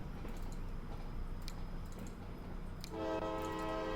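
A locomotive horn honks in a railroad-building simulation game set across the 1870s to 2000s. It comes in late as a sustained tonal blast over a ticking, rumbling game background and lasts to the end.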